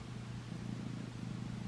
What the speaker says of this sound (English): Literally, y'all can hear her just purring.